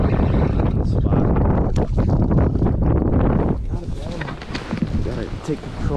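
Strong wind on the Detroit River roars and buffets the microphone throughout, with gusty rumbling under occasional talk outdoors on a fishing boat.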